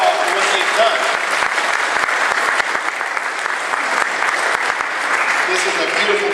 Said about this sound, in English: Dean and Jeff and Susan, let's give them a round of applause for what they've done